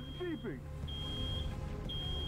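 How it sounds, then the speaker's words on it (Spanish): An alarm in the video game Road 96 beeps in steady, thin high tones, repeating about once a second over game background noise, with a brief voice at the start. "¡Es una alarma! ¡Chico, para la alarma!"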